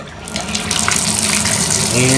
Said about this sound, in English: So what we'll do now is turn on the water